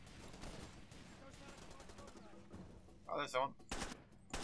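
Gunfire in the Far Cry 2 shooter game: a few sharp shots crack out near the end, following a stretch of softer distant shooting and background noise, with someone speaking briefly.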